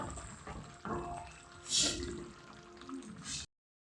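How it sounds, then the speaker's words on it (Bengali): Water is poured into a pot of browned meat curry. A short run of splashing and bubbling liquid rises and falls over a few seconds, then cuts off abruptly. "দেখো মাংসটা কষানো হয়েছে তো আমি এখন জল দিলাম"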